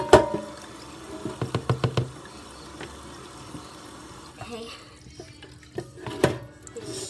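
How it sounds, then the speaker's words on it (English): Tap water runs and splashes while grease is rinsed off a skillet in a kitchen sink, with a series of knocks and clanks of the pan early on and a brief spoken word. "I'm gonna rinse off my skillet too, get some of the grease off of there."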